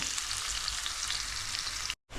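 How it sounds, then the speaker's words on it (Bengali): Prawns fry with spices in a pan, giving a steady, dense sizzle that stays loud and close throughout, then cuts out abruptly near the end. "মশলা দিয়ে প্রনটাকে একটু ভাজা করে নেব"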